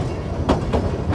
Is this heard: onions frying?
no